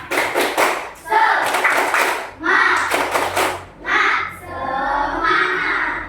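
Classroom of students at a coding and AI training session performs a rhythmic spirit clap, bursts of clapping in repeated patterned groups separated by short pauses, with voices chanting along.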